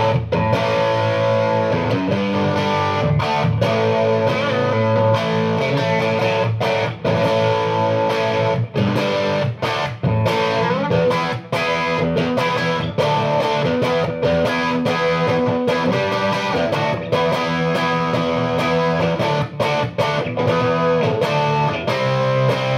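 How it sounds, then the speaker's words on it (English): High-gain electric guitar through a Traynor Dark Horse 15-watt all-tube amp in Pure mode, gain near three o'clock, playing a loud, thick distorted riff with choppy palm-muted stops, no talking. "Trainor Dark Horse 15 watt all tube amp, sounds killer."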